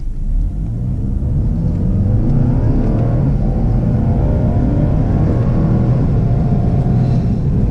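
A Cadillac ATS 2.0T turbocharged engine accelerating at half throttle on a drive, heard from inside as a loud, continuous rumbling drone that rises steadily in pitch, with no talking.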